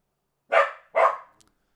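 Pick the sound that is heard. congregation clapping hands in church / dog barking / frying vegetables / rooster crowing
dog barking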